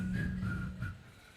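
Whistling rises during a Friday church service, a few sustained, wavering tones, some shrill, over a murmuring congregation, fairly close and fading toward the end.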